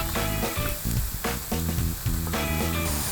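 Pork slices stir-frying in a hot pan, a loud continuous sizzle with bursts of crackling and scraping stirs close to the microphone, and no talking over it.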